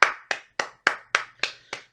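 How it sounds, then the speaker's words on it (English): Seven sharp hand claps, close and evenly spaced about a third of a second apart, with nothing else heard in between. These are a few single claps and not crowd applause for the wrestler Keith Lee. "Let's give Keith Lee a round of applause."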